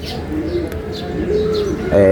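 Pigeons cooing repeatedly nearby, soft rolling coos with a few chirps over a low background murmur.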